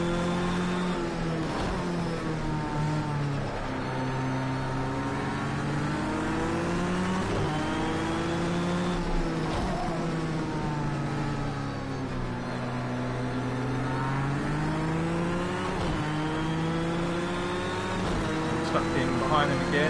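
Corvette GTE race car engine in the Project Cars 2 racing game during an endurance race at Fuji, droning steadily at high revs with shifting pitch on a straight, under continuous commentary.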